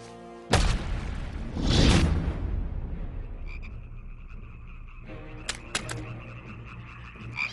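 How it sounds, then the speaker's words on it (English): Frogs croak in an animated biblical plague scene, a boom and whoosh opening into a dense swell of croaking, then scattered individual croaks and sharp calls ringing out over a quieter background. "And frogs came up out of the river and spread over the land"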